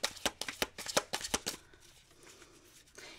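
Tarot cards are shuffled close by in a quick burst of crisp riffling flicks and slaps, about eight in the first second and a half, then trailing off into quiet handling.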